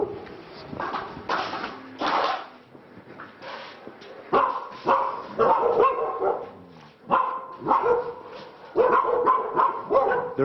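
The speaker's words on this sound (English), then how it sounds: "There's obviously some dogs down here." Stray dogs in India bark repeatedly and loudly from close by, several overlapping voices in bursts of barks and yips, with brief quieter gaps between volleys.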